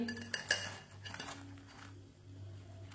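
Fried onion and egg pakoras clatter and clink against a plate and metal utensils, a couple of sharp knocks near the start followed by softer scraping under a steady low hum, with no talking.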